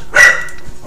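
A single sharp bark from an excited pet dog, close and fairly loud, cutting off quickly into a quiet room.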